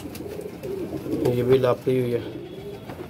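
A female migratory flying pigeon coos close by, a few throaty, rolling calls in the middle, while someone talks over it.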